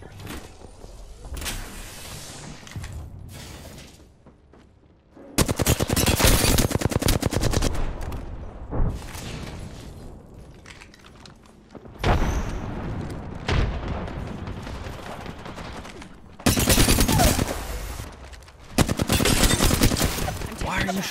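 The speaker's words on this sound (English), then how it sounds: "Why are you shooting me?" Rapid automatic weapon fire in Apex Legends, loud sustained bursts of shots separated by brief lulls, with heavy impacts and a voice speaking in between.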